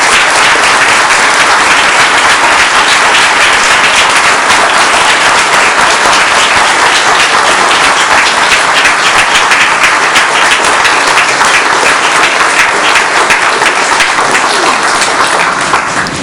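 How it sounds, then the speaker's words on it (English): An audience at a Board of Education meeting applauds in a long, loud, dense round of clapping that holds steady for about sixteen seconds before easing slightly at the end. "give these folks a round of applause and thanks for what they do"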